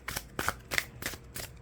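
A short run of tarot card shuffling: several crisp riffling bursts in quick succession, close and fairly quiet.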